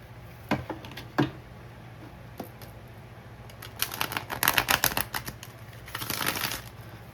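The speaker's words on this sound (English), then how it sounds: "I feel like shuffling again" Tarot cards are shuffled close up, starting with a few isolated taps and flicks, then building into rapid riffling bursts of crisp, papery clicks.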